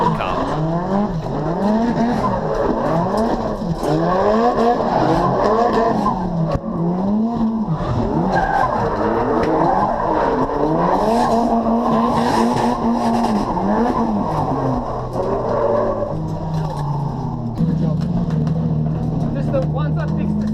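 A race car with a 1JZ engine swap skids and spins out on a track during a track day. Tires squeal in rising and falling sweeps over the loud engine, and voices talk over it.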